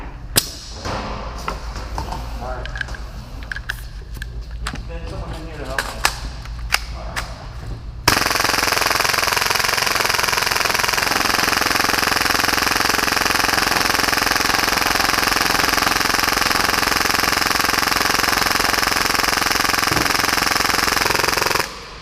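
A full-auto Hi-Capa airsoft pistol fires at about 30 rounds per second during a torture test, first in scattered bursts and then as one long, loud, unbroken buzzing stream of shots up close.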